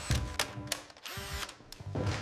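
Power drill working during restoration of an old stone windmill, heard in several short bursts with a sustained whine in the middle, close and moderately loud amid clattering work noise.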